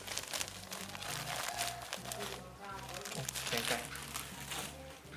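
Potting soil crunches and crinkles steadily as it is pressed down by hand around a transplanted cactus, close and continuous, with someone talking over it.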